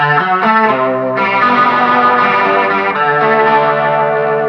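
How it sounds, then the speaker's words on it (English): Sustained electric guitar notes swirl and warble through a rotating-speaker effect, with a slightly distorted, chorus-like shimmer over a few held chords. "I generally use that kind of slightly faster setting when I'm using that kind of Leslie effect"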